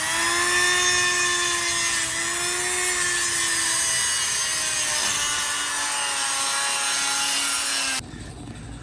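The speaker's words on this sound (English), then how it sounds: "we are trying to cut off the stud that apparently got stuck right here" A stuck wheel stud on a Mitsubishi Evo 9 MR being cut off with a power tool, a loud, steady high-pitched grinding whine that holds for about eight seconds and then abruptly stops, leaving only a low hum.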